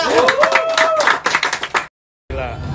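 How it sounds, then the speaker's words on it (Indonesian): Audience clapping at an Indonesian entertainment event, dense rapid applause mixed with a voice speaking over it, then a brief silent break before more clapping resumes. "Tepuk tangan dong buat"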